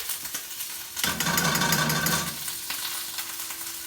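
Butter and oil sizzle in a preheated skillet for spicy shrimp a la diabla, a quiet hum that gives way to a sudden burst of frying hiss lasting about a second and a half before it fades back down.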